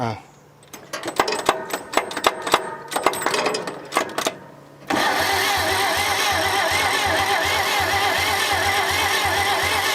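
A 1947 International KB3 truck, just rebuilt after sitting locked up for decades, cranks with rapid clattering starter turns. It then catches and settles into a loud, steady, rough idle, with people talking over it.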